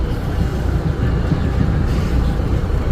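Steady low rumble and rattle fill a crowded Northeast Corridor commuter coach riding directly behind a Bombardier ALP-46 electric locomotive, continuous and fairly loud with no pauses.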